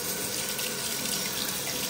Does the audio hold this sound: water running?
yes